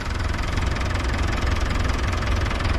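An International Harvester 1066 tractor engine runs at a steady idle, close and loud, with a continuous knocking diesel rumble and vibration and no talk over it.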